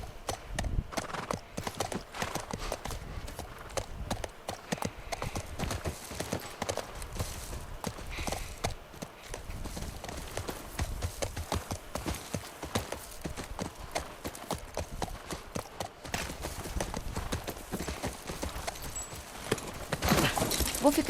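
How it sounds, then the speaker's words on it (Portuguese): Horses trot through The Last of Us video game, hooves clip-clopping in a steady continuous rhythm with occasional snorts and whinnies, while a player talks intermittently over the gameplay. "Cara, que bonito o Joe e a Ellie a cavalo."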